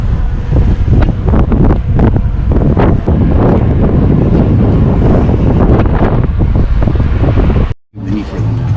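Strong wind buffets the microphone beside Longview Lake in loud, continuous gusty roars with uneven bursts, briefly dropping out near the end before resuming.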